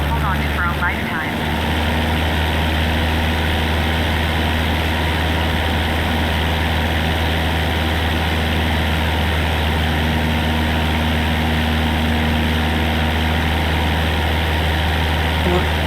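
Steady, loud drone of a small propeller plane's engine in Flight Simulator 2024, a continuous low hum with buzzing overtones lasting the whole stretch, with a voice talking underneath.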